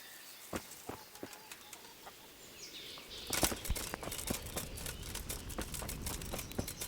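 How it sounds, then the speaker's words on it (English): Chickens clucking in the medieval game Kingdom Come: Deliverance, soft scattered clucks and bird calls over an ambient outdoor backdrop that grows busier and louder halfway through. "Still chickens around."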